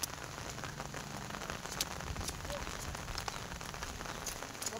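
Steady rain patters onto surfaces around an outdoor village cricket match, a dense, even hiss of drops with scattered sharper taps, continuous and fairly close throughout.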